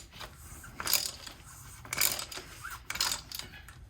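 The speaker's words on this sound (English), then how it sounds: "then you want to put your wrench back on it, and you just want to go ahead and snug it up." A wrench snugs up the plastic oil filter housing on a Mercedes E300 W213, making three short bursts of ratcheting clicks separated by brief pauses, heard close and fairly quiet.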